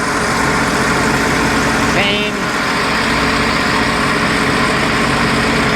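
The engine of a 2009 Sea-Doo Wake 215 personal watercraft idles steadily and loudly up close, a continuous droning rumble that runs throughout, with a voice briefly heard over it.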